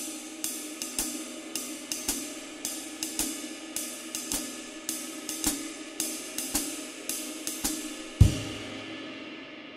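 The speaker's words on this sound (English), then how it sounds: "just sounds like the ride pattern, but again, off by one beat." Swing ride cymbal pattern displaced by one beat, played on a jazz ride: a steady run of bright, shimmering strokes with a regular skip rhythm, washing sustain between hits, and one heavier accented stroke near the end before the ring fades.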